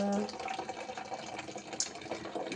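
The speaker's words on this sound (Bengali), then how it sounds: "জল ভরে নিচ্ছি" Water runs from a tap into bottles as they are filled, a steady splashing and gurgling flow at close range, fairly quiet and unbroken for a couple of seconds.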